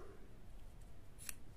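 Scissors give a single quick snip through crochet yarn, close and faint against a quiet room.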